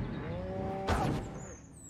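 A single low cow moo in the video game Destroy All Humans! (2020), drawn out and tonal, with a brief noisy burst partway through.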